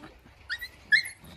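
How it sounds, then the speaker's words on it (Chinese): Two 40-day-old village mongrel puppies, a brindle and a yellow one, scuffle with brief yips and whimpering growls, faint and close, in short bursts. "他两个一见面就掐架。"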